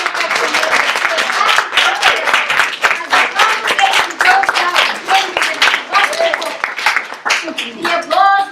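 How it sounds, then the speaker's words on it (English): An audience at a play reading claps in a lively burst of applause that stays close and loud, ending with a few scattered claps and a brief voice. "The applause rolls."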